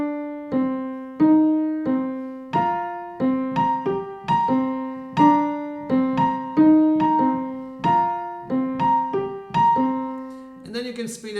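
Debussy's "The Snow is Dancing" from the Children's Corner Suite, played slowly on piano: soft repeated plucked notes in an even, gently pulsing pattern, close and clear, with no voice.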